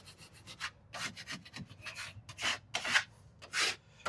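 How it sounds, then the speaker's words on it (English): A drywall knife dragged over sunk screws in a drywall sheet, a series of close scraping and rubbing strokes of varying length, some short and some drawn out, with no voices. "all you're looking to do is just pass the knife over top of these screws and see if you're catching on any of the screws"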